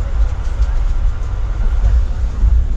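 Tutari Express train pulling into Kankavli railway station, with a loud, continuous low rumble of the rolling carriages throughout and a faint clatter over it.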